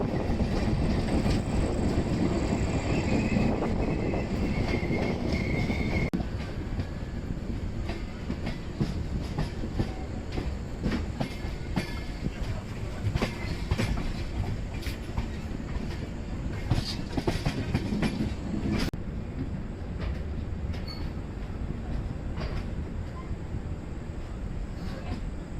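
Garib Rath Express running between Yesvantpur and Secunderabad in India, heard as a continuous low rumbling roar with steady clickety-clack of wheels over rail joints and occasional clicks, moderately loud throughout with faint voices in the background.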